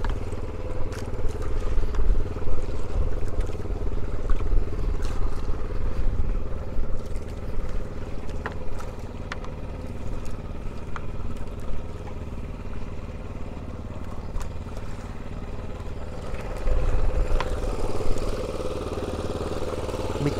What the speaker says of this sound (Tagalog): Ito yung motor, yung generator.